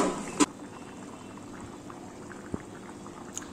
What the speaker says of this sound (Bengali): দেখো বন্ধুরা, জলটা ফুটে উঠেছে।